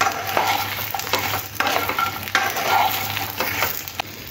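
Jujubes being stirred with salt in a hot pan for pickle, producing close, steady scraping and shuffling with a light sizzle underneath and short pauses between strokes.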